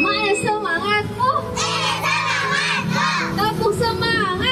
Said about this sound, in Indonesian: mau biar semangat kita yel-yel dulu ya sama Miss Eli.